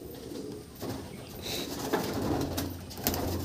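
Pigeons at a foreign pigeon show cooing softly and repeatedly in a hushed, crowded room, the low calls fairly faint under steady background noise, with no voices.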